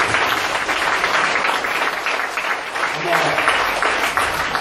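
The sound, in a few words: audience applause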